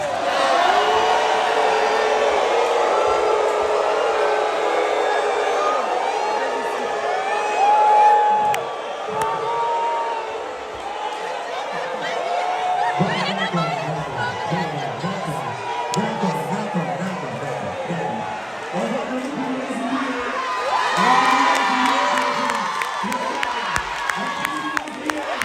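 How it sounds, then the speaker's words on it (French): A large crowd cheers, whoops and applauds at length, with voices shouting and talking throughout; the noise swells and fades in waves. "On va applaudir pour le pasteur Michael Ambaye qui a fait son zénith."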